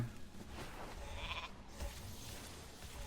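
A sheep in a video game bleats a few times against a dense, noisy background, the calls moderately loud and wavering.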